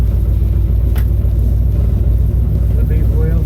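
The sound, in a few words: 1968 Ford Mustang with 289 engine driving on test drive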